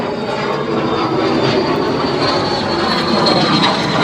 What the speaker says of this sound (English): Oh, look at that airplane.